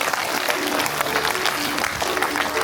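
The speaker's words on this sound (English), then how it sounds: "Clap loudly for Neha ma'am." A school audience at a Founders Day celebration applauds for a teacher, a dense continuous burst of many hands clapping that fills the space, with faint crowd murmur underneath.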